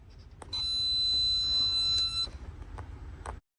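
A steady high-pitched electronic beep from an electrical tester sounds for nearly two seconds on a Porsche GT3 RS, with clicks and handling noise around it.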